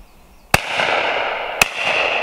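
Two sharp, loud shotgun reports ring out about a second apart during clay pigeon shooting outdoors in the UK, each with a brief echoing tail.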